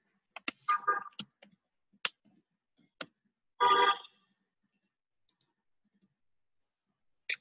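Computer mouse clicks while a Twitter post is created, a handful of sharp, isolated taps spread across a quiet stretch with a short burst of other sound in the middle.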